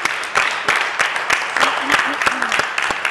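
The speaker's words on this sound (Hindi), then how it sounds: "तो एक बार जोरदार तालियां कोई ना मित्रा के लिए." A studio audience breaks into applause, with dense clapping that swells and rises in waves, and a few voices come through underneath.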